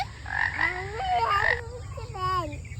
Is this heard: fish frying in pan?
no